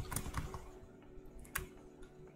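Close computer keyboard typing while coding, a quick run of soft, irregular key clicks with no talk.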